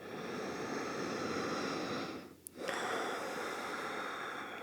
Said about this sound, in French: Et on va prendre une grande respiration.